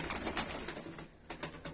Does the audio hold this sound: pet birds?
yes